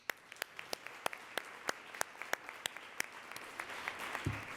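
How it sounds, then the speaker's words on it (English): Faint, distant applause from an audience at a forum event, with scattered individual claps standing out in an uneven rhythm. "Let's give a big round of applause."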